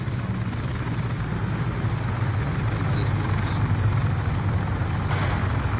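Black Ops 2 care package helicopter arriving in the video game, a steady low rotor drone and engine rumble holding at an even level for several seconds, with no voices.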